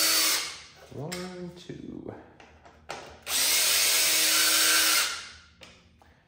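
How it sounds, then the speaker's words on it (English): A power driver with a T25 bit whirs loudly in two bursts, one short and one long, taking out two center bolts on a 2019-or-later BMW S1000RR motorcycle, with a man counting aloud between them. "Now we're gonna go back to the T25 and remove these two bolts in the center."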